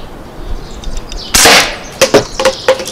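Umarex NXG multi-pump air rifle firing BBs from a bench, one sharp loud crack followed by a few quicker, lighter snaps and clicks against a quiet outdoor background.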